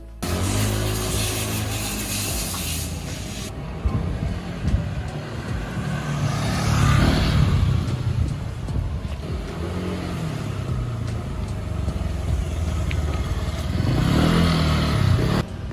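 A Honda Vario scooter on a test ride runs with a buzzing engine that revs and rises several times over a steady road rumble, with wind noise throughout.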